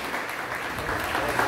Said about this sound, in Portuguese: Um aplauso, Acre.